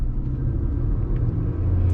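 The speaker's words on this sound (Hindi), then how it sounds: "Maruti Suzuki victorious breaking eight 100।" A Maruti Suzuki Victoris LXi CNG car brakes hard from 100 km/h, giving a loud, heavy low rumble of road and tyre noise that holds steady throughout, close and with no voices.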